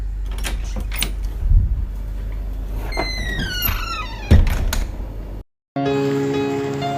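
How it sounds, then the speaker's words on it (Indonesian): A door is opened indoors with a dull latch thump and a squeaky creak, followed by another knock-like thud, a moment of silence, then a steady tonal backdrop. "Lalu Fatimah membuka pintu."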